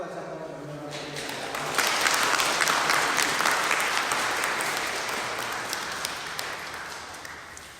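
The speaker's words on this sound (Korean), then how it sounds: "우리 인사할 때 박수로 다시 한번 연락하겠습니다." A church congregation at a Sunday worship service bursts into clapping that swells in after a quiet moment, stays full and close for several seconds, then slowly thins out.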